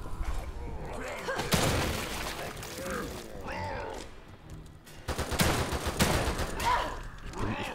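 Gunfire bursts in the survival horror video game The Evil Within 2, rapid shots in two loud clusters mixed with game effects and music, with a voice talking over parts of it.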